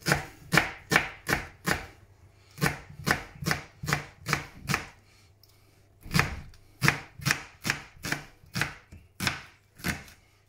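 Leeks are finely chopped with a knife on a board in two quick bursts of sharp, rhythmic strokes separated by a short pause, close and crisp with no talking.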